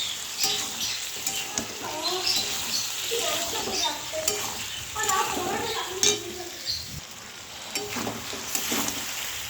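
Soft pressure-boiled soybeans stirred in a hot pan, a continuous gentle sizzle with scraping and clinking of a utensil against the pan, while a voice briefly talks in the background.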